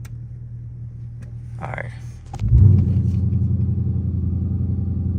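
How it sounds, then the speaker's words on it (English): A Dodge Charger R/T idles with a low rumble, then its engine surges into a loud, deep, sustained roar during a launch control start, heard from inside the car. A brief spoken word comes just before the surge. "I'm gonna show y'all the launch control."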